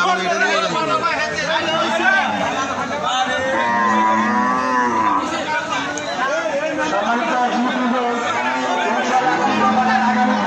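Cows moo repeatedly at a village Eid sacrificial cattle market, Tulpai Bazar in Kachua, Chandpur, Bangladesh, rising over constant crowd chatter and bargaining voices close by.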